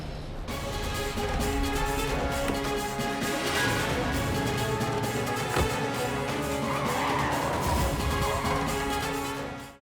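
A rickshaw skids to a halt amid a loud, continuous wash of tire squeal and engine noise, layered with dramatic music, steady throughout and dropping off at the end.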